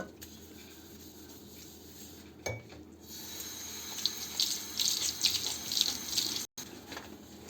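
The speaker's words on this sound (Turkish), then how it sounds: "Şöyle bol köpüklü güzelce yıkıyoruz" A burnt kettle is scrubbed with a sponge and detergent under a running tap, water hissing steadily with sponge scrubbing and splashing growing busier in the second half, plus a brief clunk and a sudden cut near the end.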